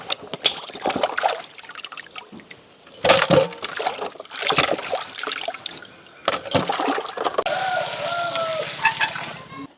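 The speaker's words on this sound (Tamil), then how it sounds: "ரெண்டு மூணு தண்ணியில் நல்ல வடிவாக கழுவி எடுக்க" Freshly dug garden tubers being washed by hand in water in a village setting, with splashing, sloshing and trickling in uneven bursts, fairly close and loud, ending in a continuous pouring stream.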